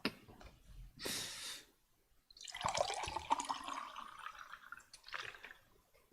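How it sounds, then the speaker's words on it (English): Splashing and gurgling water in an Unreal Engine MMO game, heard in a few separate bursts with short quiet gaps between them, close and moderately loud with no talk. "Sound of water."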